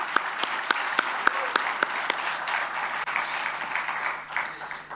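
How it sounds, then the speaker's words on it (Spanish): A CPAC conference audience in Paraguay applauds steadily, with dense clapping and a few sharper individual claps standing out, continuing throughout at moderate volume. "Aplausos para ellos."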